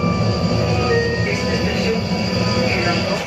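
A train arriving at Kalundborg station in the small Danish port town, a steady low rumble of rolling rail cars with faint wheel squeal, continuous and fairly loud, with some voices mixed in.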